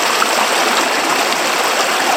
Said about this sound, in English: we've got our fast water running along this edge here